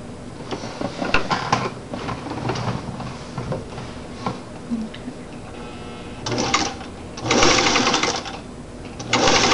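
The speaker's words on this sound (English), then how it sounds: "I'm going to sew this" A sewing machine stitches fabric for a grocery bag holder in short motor bursts, with a longer, louder run of stitching near the end and some talk between bursts.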